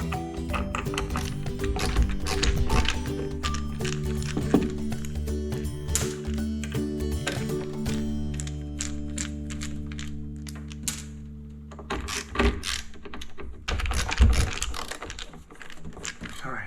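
Screws being removed from a Fancy Kitty drum carder during repair, a close series of small clicks, ratcheting and metallic taps, with someone talking quietly throughout.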